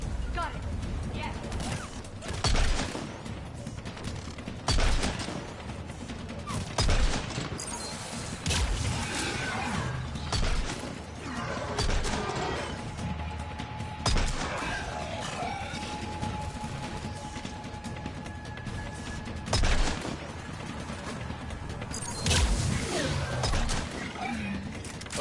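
Sporadic gunfire and impacts during a combat firefight in Mass Effect 3, repeated sharp bursts and thuds spread across the scene under ongoing background noise and occasional speech.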